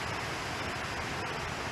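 Steady broadband rush of water pouring over a dam along an abandoned aqueduct, heard alone as a continuous wash with no talking.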